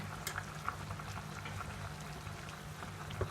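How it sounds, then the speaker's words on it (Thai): A pot of tom yum with mushrooms and grilled catfish boils steadily, with a dense, even bubbling and occasional louder pops close by, and no voices. "ปิดฝารอให้หม้อเดือดหรือว่าเห็ดสุกหรือว่าปลาสุกก่อนนะคะ"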